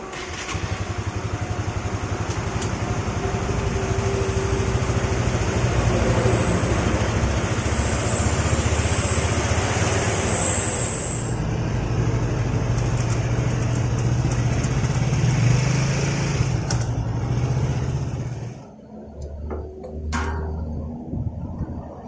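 Honda CB150R motorcycle on a test ride with a badly juddering clutch, its engine droning steadily and close for about eighteen seconds with rising and falling revs, then cutting off sharply before a brief quieter run.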